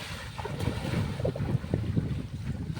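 Wind gusts outdoors on a forest outing where elephants are kept, a continuous rumbling buffet of microphone wind noise at close range, with no talk.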